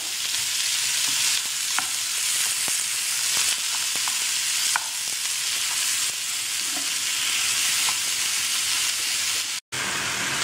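Minced meat sizzles steadily in oil in a pan while a spoon scrapes and stirs it in repeated strokes, close and continuous with no talking.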